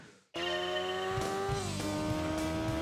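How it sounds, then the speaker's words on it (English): A car engine in the video game Gran Turismo 2 revs very high after a moment of silence, the loud sustained whine rising and holding with gear-change dips and some tire noise, heard alone. "The sound is nice of this car. Yeah, they rev really, really high."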